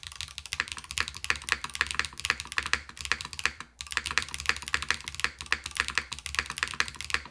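Rapid, steady typing on a mechanical keyboard fitted with Heron switches, close and crisp clicks and clacks running continuously with one brief pause midway, no talking.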